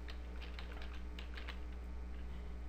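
A computer keyboard being typed on while entering a MySQL create-database command: a steady run of light, quick key clicks, soft and close, over a constant low hum, with no voice.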